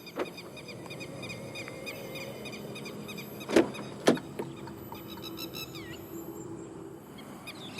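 Door locks on a 2023 Proton X50 1.5T Premium operated by touch-sensing keyless entry: two sharp, close clicks about half a second apart, set against a quiet background of chirping insects.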